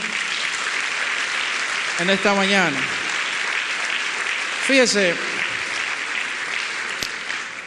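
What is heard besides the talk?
applause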